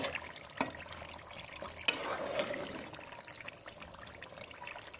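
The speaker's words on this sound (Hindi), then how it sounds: "आप ये हिलाते जाएंगे, इसी में आपने थोड़ी देर फ्राई करना है।" Tomatoes and chicken for a karahi being stirred and fried in a pan, with a soft steady sizzle, scraping stirs and a couple of sharp utensil clinks, heard close with no talk.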